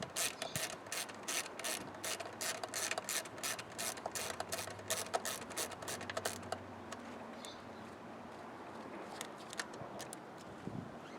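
A ratchet clicks rapidly in bursts, then slows to sparser ticks, as a T27 screw on the fuel line of a 2014 Audi Q5 2.0T is backed out; close, fairly quiet mechanical work with no talk.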